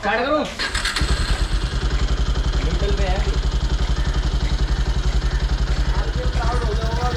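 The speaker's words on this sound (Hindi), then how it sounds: "मेरी बाइक की साउंड और ख़राब हो गई है।" A faulty motorcycle engine idles roughly and loudly with a steady, uneven chugging pulse throughout, someone talking over it.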